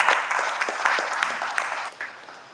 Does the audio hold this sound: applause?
yes